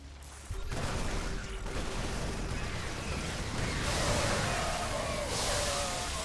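Battle sounds from a StarCraft 2 game, Terran against Zerg: a steady dense wash of game effects with explosions and gunfire from Marines, medevacs and zerglings, continuous and fairly loud with no talk.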